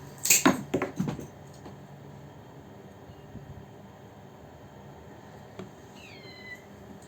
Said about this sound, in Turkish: Kedi miyavlıyor.